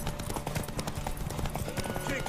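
Horse hooves clip-clop at a gallop in The Witcher 3: Wild Hunt, a steady rhythmic pounding beneath loud game voices, music and crowd noise.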